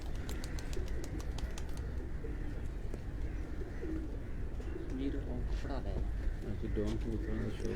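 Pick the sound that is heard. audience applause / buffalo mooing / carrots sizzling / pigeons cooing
pigeons cooing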